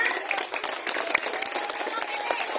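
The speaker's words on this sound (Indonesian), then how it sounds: "Tepuk tangan ya." Audience clapping at a primary school event, a short burst of many hands with sharp individual claps over murmuring.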